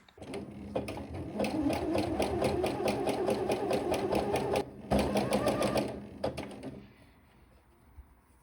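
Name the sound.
sewing machine zigzag stitching a skirt hem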